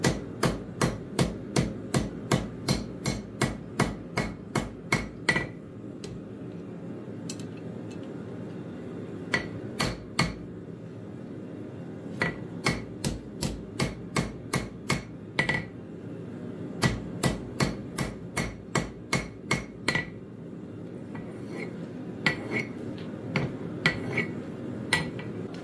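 A hammer strikes a steel crowbar on an anvil while it is forged flat into a knife, ringing in rapid, rhythmic bursts of sharp metallic blows separated by brief pauses.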